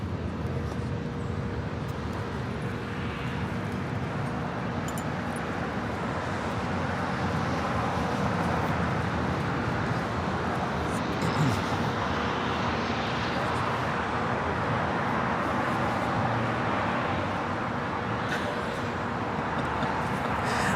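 A heavy jet airliner departs from the south side of Los Angeles International Airport, a broad, steady roar of engine noise blended with wind and distant traffic, sustained throughout without speech.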